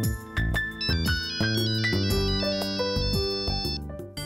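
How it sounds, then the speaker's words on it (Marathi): A mobile phone ringtone plays loudly and steadily, a bright repeating electronic melody with layered tones, ringing alone for several seconds with no talk over it. "अरे सरांचा फोन."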